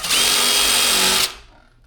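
A cordless power drill spins up and whines at a steady high pitch for about a second while boring a pilot hole to mount white faux wood blinds, then winds down and stops.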